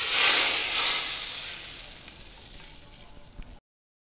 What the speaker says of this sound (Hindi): इसका हमने लोबिया के ऊपर तड़का लगाना है।